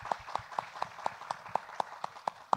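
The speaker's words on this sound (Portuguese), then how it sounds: "Então, Carla e Jéssica, uma salva de palmas para as meninas, que elas merecem." Applause at a literature event for young readers with an author: crisp, evenly spaced claps in a steady rhythm, about four per second, close and distinct, with no talking.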